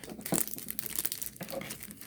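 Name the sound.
peeling back plastic film on diamond painting kit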